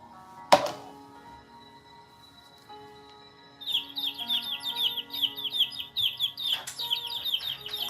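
Birds chirp in quick, high twittering bursts that start partway through and continue steadily, preceded by a sharp knock, all heard fairly faintly over a quiet background hum.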